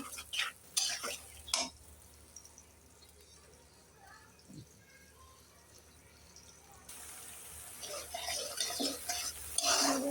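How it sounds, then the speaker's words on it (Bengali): Spice paste for a taro curry fried and stirred in a pot, soft scraping and faint sizzling with occasional utensil knocks, fairly quiet beneath a person talking nearby. "কচু রান্নার জন্য মশলাটা কষানো হতেছে"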